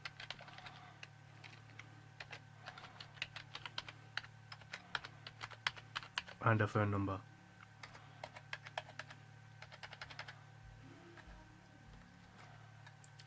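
Steady, irregular clicks of typing on a computer keyboard while personal details are entered into a cricket scoring program, close and crisp, with a voice briefly speaking in the middle.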